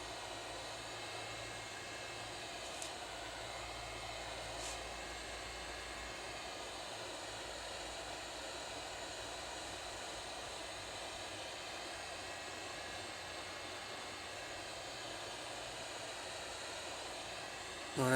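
A hair dryer or heat gun blows steadily while heating the edges of a cracked iPad 2 touch screen, a constant airy whoosh that runs unchanged for the whole stretch at close range, with no talk over it.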